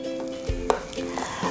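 Battered, flour-coated onion slices fry in hot cooking oil with a soft crackling sizzle, broken by a few louder pops and clatters of the pan or utensil, close and moderately quiet.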